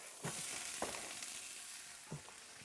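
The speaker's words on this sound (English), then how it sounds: "Hear that nice sizzle." Soft, steady sizzling of sliced shallots frying in a pan, with a few brief scraping clinks, quiet and close.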